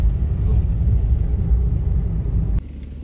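Mahindra Bolero rumbling and thudding over road bumps on an off-road stretch between Manali and Leh, a loud continuous low rumble from inside the cabin that drops off abruptly near the end.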